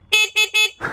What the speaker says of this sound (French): il envoie du lourd le klaxon.